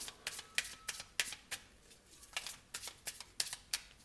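Tarot cards shuffled and drawn from the deck, a quick irregular run of crisp riffling snaps and flicks, close and fairly quiet, with no voices.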